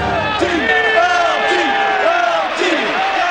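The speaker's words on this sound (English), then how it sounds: "The bitter booing of Giant seasons past was now replaced by a Meadowlands chant exalting New York's greatest football hero" A football crowd at the Meadowlands stadium chants for Lawrence Taylor of the New York Giants, loud rhythmic massed voices rising and falling in repeated swoops, filling the whole space.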